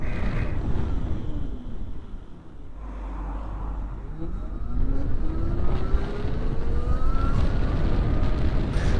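A 2020 Zero SR/S electric motorcycle rolling along at about 30 mph on a road: steady, loud wind rush and tyre roar with a faint rising and falling electric motor whine, recorded close from the rider with no speech.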